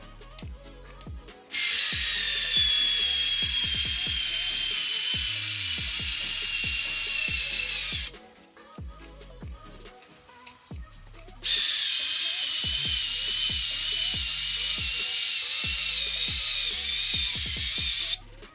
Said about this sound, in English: This driver doesn't have very much torque, which I like, because then again it prevents from any kind of over torquing and stripping